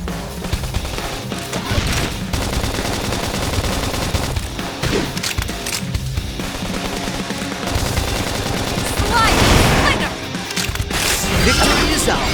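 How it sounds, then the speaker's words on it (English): Rapid gunfire and impacts from a battle in the video game Xenoblade Chronicles X, dense bursts of shots and crashes layered with game music and character voices calling out. "Focus is now if we can just topple them with gunfire."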